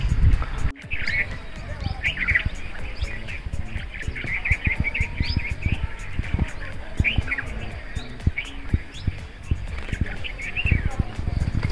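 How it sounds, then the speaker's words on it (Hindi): A green parrot with a red face calls near a temple, giving repeated short high chirps scattered through a busy outdoor background with rumbling and clattering noise. "ये तोता पूरा, इसका मतलब लाल मुंह है और ग्रीन कलर का"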